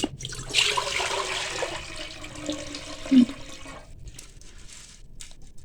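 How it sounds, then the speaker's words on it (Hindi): About 1.5 liters of water gushes and splashes into a pot on a stove for a few seconds, then settles into a quieter trickle, with no one speaking. "इसमें हम पानी शामिल कर देंगे।"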